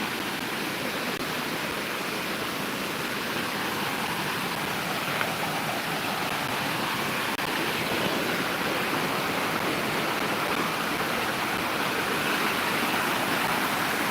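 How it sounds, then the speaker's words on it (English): A waterfall roars steadily beside a deep pit on a hike, a constant, even rush of falling water with no breaks, heard up close and alone. "You guys see the waterfall and everything."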